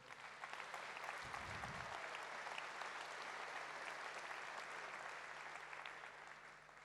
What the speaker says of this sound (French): vous pouvez les applaudir aussi